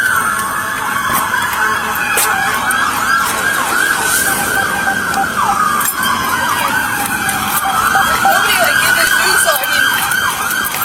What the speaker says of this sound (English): You hear all the lights and sirens?